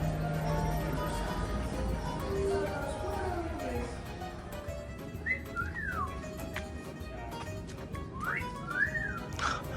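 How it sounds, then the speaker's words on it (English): A person whistles short rising and falling notes over steady outdoor background noise, with faint bird-like chirps in between. "Are you whistling at me?"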